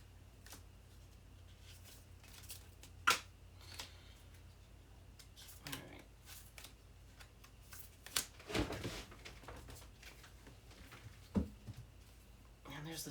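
Tarot cards shuffle quietly in scattered short riffles and soft taps, faint and close, spread across the stretch with a voice speaking in between.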